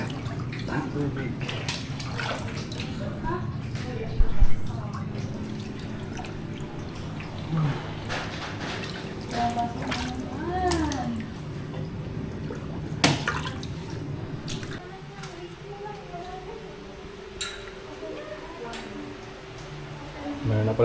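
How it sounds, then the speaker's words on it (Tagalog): Water trickles and drips steadily at close range, with occasional splashy pours and clinks, while people talk intermittently over it. "Meron na pala tubig dito."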